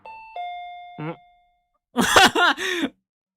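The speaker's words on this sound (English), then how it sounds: "What is that doorbell? I'm scared. My doorbell rang." A two-tone electronic ding-dong doorbell chime in a video game rings out clearly, followed after a pause by a startled voice reacting loudly.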